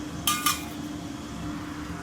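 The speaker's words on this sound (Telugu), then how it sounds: "కడాయి పెట్టుకున్నాము. ఆయిల్ వేసుకున్నాము." A metal kadai set down on a stove for tempering mango pachadi, giving two quick bright metallic clinks close by, then a low steady hum.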